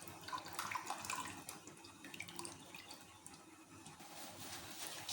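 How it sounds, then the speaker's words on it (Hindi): Strained tamarind pulp poured into a pot of Sindhi-style fish curry, a steady close liquid splashing and trickling with small bubbly drips throughout. "अब हम इसमें इमली का पल्प ऐड करेंगे।"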